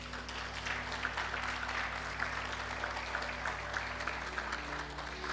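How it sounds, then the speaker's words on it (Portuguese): Congregation applauding during a Portuguese-language church sermon, a dense, steady wash of clapping that fills the whole stretch at moderate distance over a low, sustained instrumental hum. "Quantos podem aplaudir Jesus por isso?"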